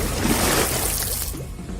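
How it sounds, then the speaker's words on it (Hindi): A body plunges into water with a broad splash and sloshing that quickly fades to a quieter swirl, loud and close. "पानी में कोई गिरा तो जरूर था"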